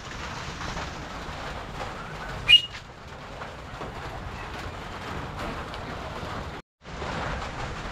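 Steady rain falls over flooded ground by a fishpond, a continuous broadband hiss running throughout with one brief sharp sound near the start and a short drop-out near the end.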